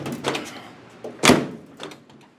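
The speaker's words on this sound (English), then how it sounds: "My door's still not shutting right." A door on a 1929 Ford Model A coupe being pushed shut, one solid thunk near the middle of the clip, with softer knocks and rattles from the car body before and after.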